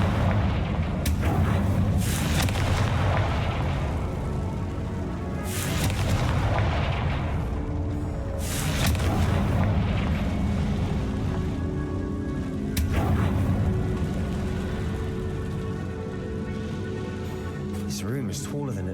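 Repeated Confringo spell blasts in Hogwarts Legacy inside a tomb, several heavy booming explosions rolling over dense game rumble and music, with a voice talking throughout.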